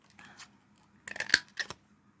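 Scissors snipping the edges of a sheet of craft material for a Post-it case, a faint rustle first, then a quick cluster of sharp close cuts followed by one more snip, with no talk.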